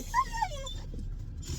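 Dog whimpering and whining in short rising-and-falling tones, close and fairly clear near the start, then fading into a low steady background rumble with no further calls.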